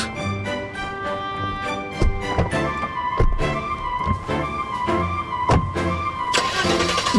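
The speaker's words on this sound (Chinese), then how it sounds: "摩托车， 摩托车，" A motorcycle engine starts and settles into a loud, steady running drone, with sharp pulses throughout and no talking.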